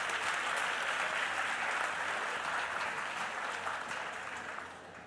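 Audience applause at the Flip 2018 literary festival talk: a dense, steady wash of clapping from a large crowd that holds evenly for several seconds, then thins and softens toward the end.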